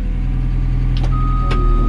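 A bulldozer's engine drones steadily and loudly, its low rumble rising slightly as the throttle is eased up, with a thin tonal whine and a couple of brief clanks near the end.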